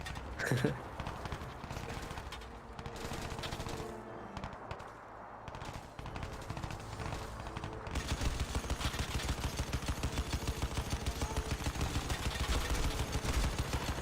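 LMG machine gun fire in Crysis 2 Remastered, with a rapid, steady burst of loud rounds in the second half, after a stretch of mixed game action and other noise.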